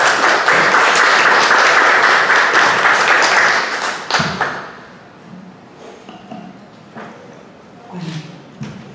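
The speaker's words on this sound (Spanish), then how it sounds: "Le damos fuertes aplausos también" Loud, dense audience applause at an evening book discussion event, sustained for about four seconds and then stopping abruptly, followed by quiet room sounds with a few soft knocks and shuffles.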